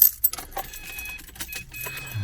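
Car keys jangle in quick metallic bursts near a car during work on its external wastegate and ECU tuning, close and clear, with rattling clinks spread across the moment and a low rumble underneath.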